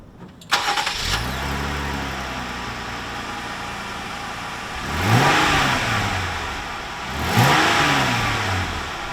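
Jeep Gladiator with its factory exhaust starting up, then idling and revving twice, each rev swelling and falling back, close and loud with no talking.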